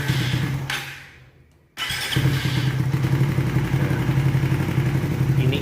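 A motorcycle engine is cranked and catches after a short pause, then settles into a steady, loud idle with a low rumbling throb that continues to the end.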